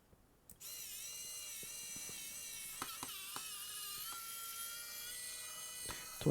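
Small powered screwdriver or drill whirring steadily while taking apart a Dell PC, a thin high whine running continuously with occasional faint clicks, quiet and close.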